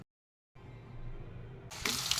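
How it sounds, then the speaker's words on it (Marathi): Water runs from a tap into a bowl holding turmeric, chilli powder and salt. The stream is soft and steady after a brief silence, then grows louder and brighter near the end. "यामध्ये पाणी थोडं घालून ते कालवून घेणार आहे"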